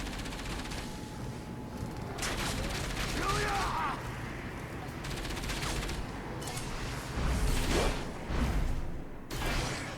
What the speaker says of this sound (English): Just someone firing at me.